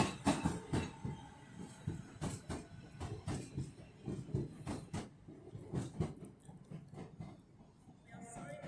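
A train runs through Crewe station on the West Coast Main Line, with a steady rhythm of wheel clacks over rail joints, fairly close and moderately loud, easing toward the end.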